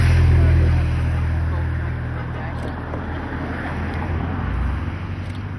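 Motorcycle engines drone loudly at first as they pass on a mountain road during a cycling race climb, fading into a steady distant rumble with voices talking nearby.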